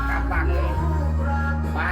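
Ducks quacking nearby, a few harsh, nasal calls over a low droning hum.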